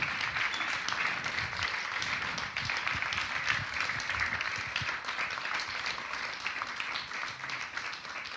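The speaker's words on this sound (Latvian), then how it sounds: "Aplausi" Audience applause at the Latvian Event Forum Excellence Awards 2025 ceremony, a steady broad wash of many hands clapping that continues throughout at a moderate, fairly even level.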